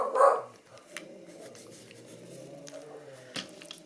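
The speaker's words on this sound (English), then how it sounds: "Why are the dogs barking?" Dogs bark indoors, a single sharp burst right at the start, then fade into quiet room sounds with faint rustling and a small knock later on.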